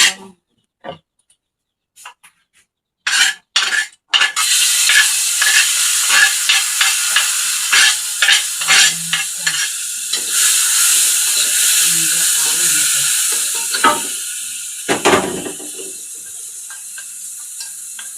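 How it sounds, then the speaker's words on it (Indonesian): Fried rice (nasi goreng) sizzles loudly in a pan while a utensil stirs and scrapes it, with repeated scraping strokes over a steady hiss after a few sparse clatters at the start. "Goreng sego."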